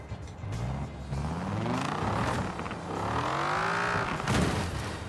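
A Ford F-100 pickup's swapped 8-litre V10 engine in a video game revs up and down repeatedly, its pitch rising and falling in rumbling sweeps, loud and close, with no talking.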